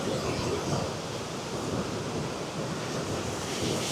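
Rushing water from the top of Lower Falls on a Banff trail, a dense, steady broadband roar without pause, loud and close, mixed with some wind buffeting the microphone.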